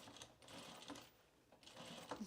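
A sewing machine runs a couple of quick bursts of stitches around the curve of fabric booties, with brief motor whirs separated by short pauses and quiet handling noise at close range.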